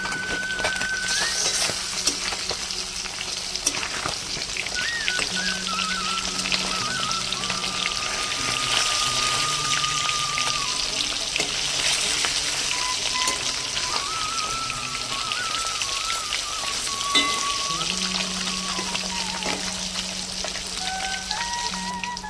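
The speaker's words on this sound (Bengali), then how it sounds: "মাছগুলো আমি লাল করে ভেজে নেব মাছগুলোকে আমি উল্টিয়ে নেবো এখন" Rohu fish sizzle and crackle in hot oil, a dense, steady frying hiss lasting the whole time, close and fairly loud, with faint tonal sounds in the background.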